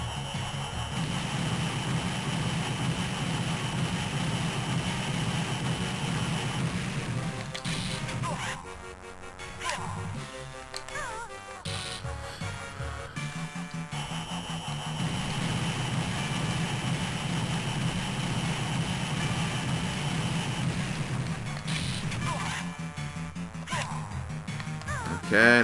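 Bomber aircraft engine from the Banjo-Kazooie: Grunty's Revenge video game, a continuous low droning hum that dips briefly in the middle before returning, layered under game music and effects with no voices.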